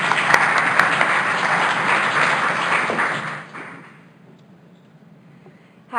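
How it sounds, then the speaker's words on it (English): Audience applause at a talk on finding love with a chronic condition, a dense crowd of clapping that holds steady for about three seconds, then fades to quiet room tone. "And let's give them a round of applause."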